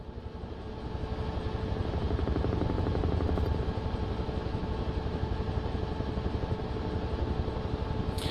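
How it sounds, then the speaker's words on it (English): Helicopter in Microsoft Flight Simulator 2024, its rotor chop and turbine whine steady and loud throughout, a close continuous drone with no talk. "Let's jump back into the helicopter and keep a bit more flight sim going"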